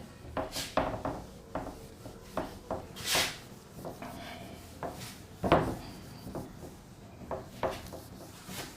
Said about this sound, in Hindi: तो चलिए हम इसको रब करते हैं, फिर आप आगे देखें।